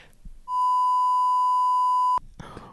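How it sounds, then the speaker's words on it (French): A pure censorship beep lasting about a second and a half covers speech in a French conversation, with brief voices heard just before and after it. "Mais je suis obligé de biper."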